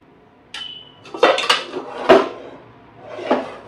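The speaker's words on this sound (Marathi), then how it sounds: "झाकण ठेवते." Metal lid set down on a cooking pot on a gas stove in a home kitchen while making rice-flour bhakri, giving a few sharp clanks and clatters close by with no talk.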